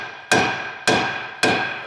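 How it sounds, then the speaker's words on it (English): A hammer strikes a stubborn one-piece wheel part on a Cadillac CTS-V wagon three times in steady succession, each blow a loud, sharp metallic clang with a ringing decay, close by and with no talk. "And of course this 1-piece isn't gonna cooperate. Needs the hammer."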